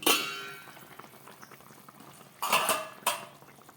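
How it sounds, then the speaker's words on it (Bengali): A lid comes off a cooking pot of fish curry with two sharp metallic clanks, heard close over a soft bubbling simmer. "2-3 মিনিট পরে ঢাকাটা খুলছি"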